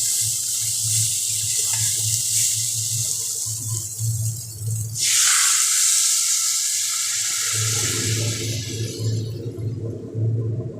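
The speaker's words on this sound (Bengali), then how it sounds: "এবার এর মধ্যে আমরা জল দিয়ে দিই।" Water is poured into a pan of potatoes and vegetable stalks, a steady close splashing gush that shifts tone partway through, with the pan humming and sizzling underneath.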